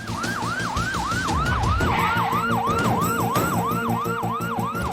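A police car siren wails continuously in a fast, even, rising-and-falling sweep, loud and steady throughout, with no voices.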